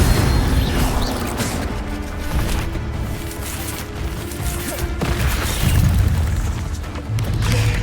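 Incendio fire spells blast repeatedly in Hogwarts Legacy combat, giving dense booming, crashing bursts and a continuous roar of effects, loud and close with no talk.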